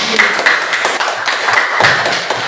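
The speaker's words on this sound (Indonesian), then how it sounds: "Tepuk tangan" A class of students in a school classroom clap their hands together in a brief, loud, close burst of uneven, overlapping claps.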